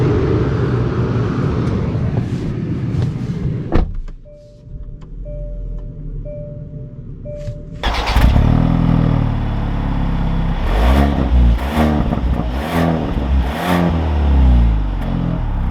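A 2021 Genesis G70 Elite with the 2.0T turbo four-cylinder pulls away and drives. There is a loud engine rumble, a quieter stretch in the middle, then stronger engine and road noise as it accelerates, with no talking.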